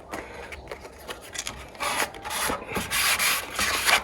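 Sandpaper rubbed across the plastic shell of a Nintendo 64 console, a steady scratchy scraping in repeated strokes that grows louder and denser toward the end, heard up close with no talking.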